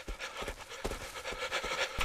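A dog in the horror video game Cry of Fear pants in quick, rhythmic breaths, fairly quiet and repeated steadily throughout.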